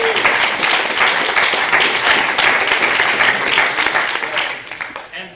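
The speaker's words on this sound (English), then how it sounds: "Let's give a big round of applause to our speakers." A conference audience breaks into sustained applause for its speakers at the closing session, a dense, loud clapping from a sizeable crowd that carries on steadily and then tapers off at the end.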